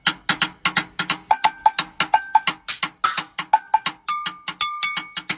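A mounted tin cup struck as percussion in a musical's orchestra pit gives bright, dry metallic clanks in a quick steady rhythm, with a few ringing pitched hits mixed in near the end.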